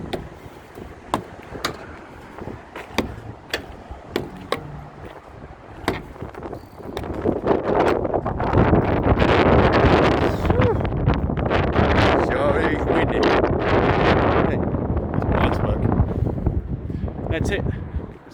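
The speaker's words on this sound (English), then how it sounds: "It's nice and windy." Strong wind buffeting a microphone beside a loaded vehicle on a road trip between Caldwell, Idaho and Pendleton, Oregon, with scattered gusty thumps at first, then a loud sustained roaring rush for the rest.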